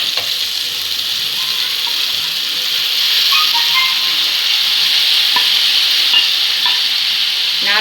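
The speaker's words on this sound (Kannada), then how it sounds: "ಇವಾಗ ನೂಡಲ್ಸ್ ಹಾಕ್ತಾ ಇದ್ದೀನಿ." Maggi noodles sizzle and fry in a pan at home while being stirred, a steady hiss with occasional scraping clinks, close and continuous without talk.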